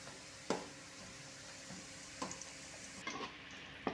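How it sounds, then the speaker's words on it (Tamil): Onions and cashews frying in a pan, a soft continuous sizzle with a few sharp clinks and stirring taps from a utensil, close but quiet, with no voices. "கொஞ்சம் வெங்காயம் வறுத்து எடுத்துக்கிறோம்"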